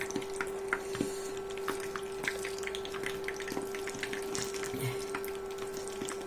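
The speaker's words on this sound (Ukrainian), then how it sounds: "Бачите, як гарно жариться, смажиться печеться." Apples in sweet batter fry in a pan, with scattered crackles and small pops over a low bubbling bed and a faint steady hum.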